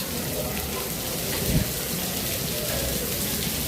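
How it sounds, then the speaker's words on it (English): Rain falls steadily at Epcot, a dense even hiss of drops on surfaces with a brief dull thump partway through, close and constant throughout. "I know it's raining now"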